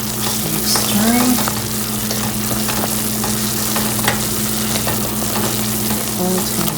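Pomegranate jelly boils in a pot while being stirred, a loud, continuous bubbling sizzle with scraping spoon strokes, close and steady throughout.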